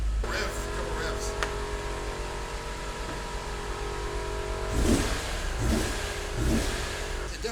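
BMW E46 M3 engine, just restarted after a no-start fault, idles steadily then gives a few sharp revs that rise and fall near the end, close and fairly loud.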